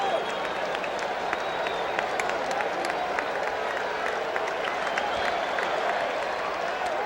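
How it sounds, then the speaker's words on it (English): Baseball stadium crowd at the 1986 World Series applauding and cheering for pitcher Bobby Ojeda: a dense, sustained wash of clapping and cheers filling the whole stretch without a break. "The crowd trying to spur him on now"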